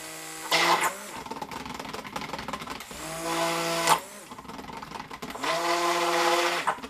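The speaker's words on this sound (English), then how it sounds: "I'm going to grab my stick blender" A stick blender whirs in several bursts through cold process soap batter with gold mica, revving up with a steady motor whine, pausing briefly between runs, close and fairly loud with no talking.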